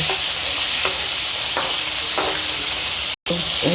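Stuffed bitter gourds sizzle and fry in a pan while steaming, a steady close hiss with soft stirring scrapes and a brief dropout near the end.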